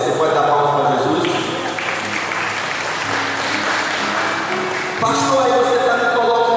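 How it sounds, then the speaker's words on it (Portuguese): A church congregation claps for Jesus in steady, loud, continuous applause that fills the room, with voices speaking and singing over it. "Você pode dar palmas para Jesus?"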